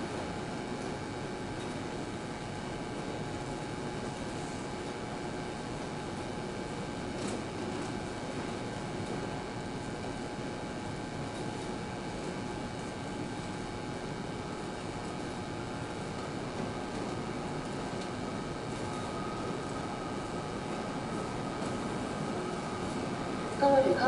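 Push-pull Tze-Chiang express train with nine cars pulling into Kaohsiung Station, a steady low rumble and rolling drone holding even throughout with a faint station hum, no clear horn.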